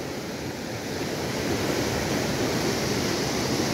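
The Khadu river, a mountain stream in Nepal swollen by monsoon rain, roars in a dense, continuous rush that swells louder partway through, with no talking.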